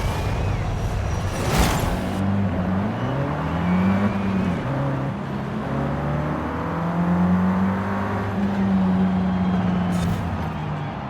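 Car engine drone in Forza Horizon 5, a steady loud hum with rising and falling pitch as the car drives continuously, plus a brief whoosh near the start.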